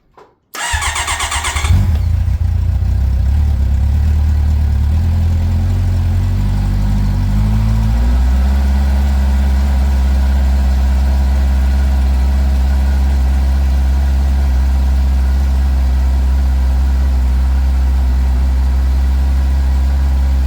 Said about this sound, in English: with the stock exhaust on it. And it's gonna be a cold start